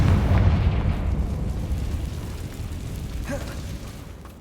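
A Confringo fire spell bursts in Hogwarts Legacy, a loud boom opening the clip and rolling off into a long, decaying rumble.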